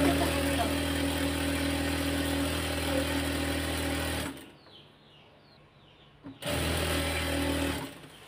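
Electric sewing machine stitching pyjama fabric, a loud steady whirring run that stops for about two seconds of near silence, then starts again briefly before stopping.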